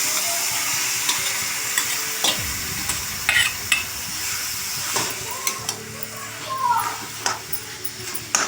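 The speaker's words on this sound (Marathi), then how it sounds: "आता भोपळा घालूया" Cooked red pumpkin being stirred in ghee in a pan: soft scraping and stirring strokes over a faint sizzle, with irregular knocks of a utensil against the pan.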